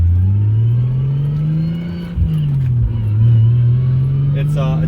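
A manual-swapped 2JZ Lexus GS300 pulls away from a standstill, its engine droning and climbing in pitch, with a brief dip at the harsh clutch engagement before revving again, loud and close from inside the car as someone talks over it.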